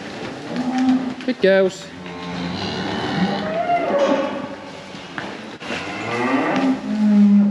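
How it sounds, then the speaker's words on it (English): Heifers not in calf mooing loudly and repeatedly as they are driven up into a pen on a farm, with several low calls overlapping, a person speaking briefly among them. "the rest of the heifers that are not in calf are going to come up here into this pen"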